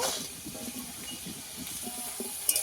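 Potatoes frying in hot oil in a pan make a continuous close hiss and crackle, with no voice over the sound.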